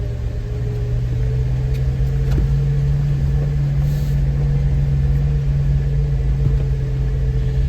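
A Jeep crawls a mountain trail in low-range second gear, its engine a steady, loud low drone with a constant hum running the whole time and a few faint knocks from the trail.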